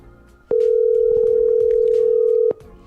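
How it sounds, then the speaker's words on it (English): A telephone dial tone sounds while a call is being placed: one steady, loud, unbroken tone that holds for about two seconds before cutting off, with quiet room noise on either side. "Let's make a phone call."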